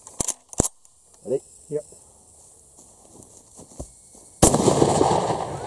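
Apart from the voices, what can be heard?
Uzkon LA887 lever action shotgun firing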